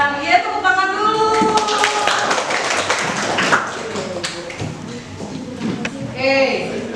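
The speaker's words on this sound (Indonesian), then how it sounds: "Iya, tepuk tangan dulu." Classroom applause as a student group is called to the front, uneven clapping mixed with excited voices and chatter throughout, fairly close and lively.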